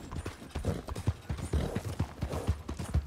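Horse hooves clip-clop steadily across the ground in the video game Red Dead Redemption 2. The footfalls are quick and rhythmic with some rattling tack, moderately quiet and with no speech over them.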